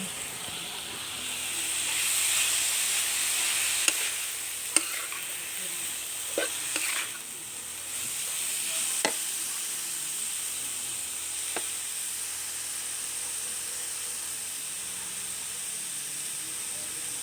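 Pickled bamboo shoots stir-fry in hot oil with a quiet, even hiss, while a few sharp utensil clinks land against the pan now and then.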